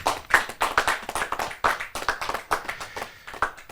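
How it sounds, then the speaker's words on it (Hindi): An audience at a Hindi kavi sammelan applauds in quick, rhythmic hand claps. The claps are close and steady for several seconds, with no voices over them. "जोरदार तालियों के साथ।"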